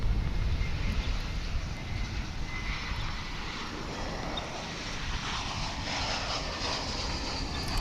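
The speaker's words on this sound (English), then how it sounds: "Here comes an American Airlines flight from Tucson" An American Airlines airliner arrives at Dallas/Fort Worth International Airport from Tucson, Arizona. A loud, continuous broadband engine roar fills the whole stretch, steady and close, with no voices.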